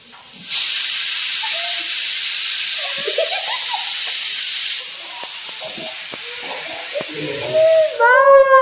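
A loud steam hiss from a pressure cooker starts and holds for several seconds, then cuts off, leaving voices and clatter in a kitchen before a high rising whistle near the end.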